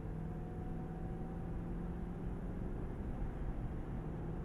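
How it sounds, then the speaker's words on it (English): A 2021 Toyota Land Cruiser V8 engine at half throttle gives a steady, low, droning hum under road and cabin noise, constant and moderately faint throughout. "even at half throttle, you're kind of always hearing that V8"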